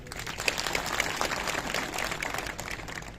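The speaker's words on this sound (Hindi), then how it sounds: "मैं एक बार चाहूंगा कि आप जोरदार तरीके से ताली बजाएं" An audience at a Jal Shakti department gathering claps loudly for the officers seated there, a dense, steady burst of many hands that holds evenly for a few seconds with no voices over it.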